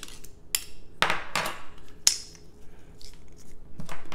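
Garlic clove pressed and scraped out of a kitchen garlic mincer: a few sharp metallic clicks and scrapes spaced through a quiet stretch, close and fairly crisp, with no talking.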